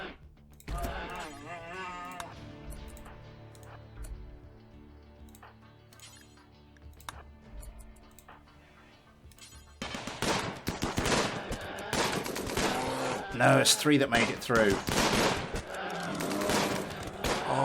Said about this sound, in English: Oh, the hail of gunfire.